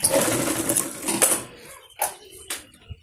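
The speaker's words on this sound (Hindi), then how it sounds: "अब हम इस पे इस तरीके से सिलाई लगाएंगे" Sewing machine stitching fabric for a young girl's palazzo outfit, a close rapid mechanical whirr for over a second, then a few short separate bursts of stitching with pauses between.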